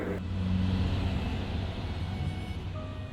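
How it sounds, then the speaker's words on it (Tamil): Bus engine rumbling along an empty road at night, a steady low drone of the motor with a tonal whine, moderately loud and continuous with no other traffic or voices. "அந்த நைட் நேரத்துல இந்த பஸ்ஸோட சத்தம் மட்டும் தான் கேட்டிருக்கு"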